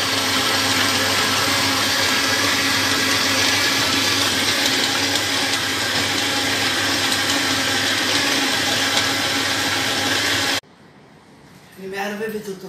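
Electric mixer beating cocoa cookie dough in a home kitchen: a loud, steady whirring drone that runs for about ten seconds, then cuts off abruptly, with a voice following briefly.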